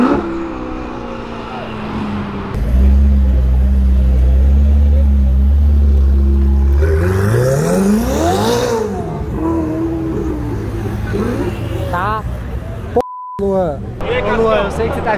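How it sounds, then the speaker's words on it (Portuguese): Ferrari 488 with 670 horsepower drifting on a street, its engine revving loudly and rising in pitch, close and strong, with people talking and shouting over it and a short electronic beep near the end. "Sair de lado com uma Ferrari 488, 670 cavalos, velho."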